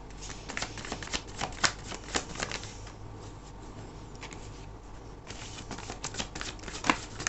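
Tarot cards are riffled and shuffled in repeated crisp bursts, close up, with a short pause midway before the shuffling resumes.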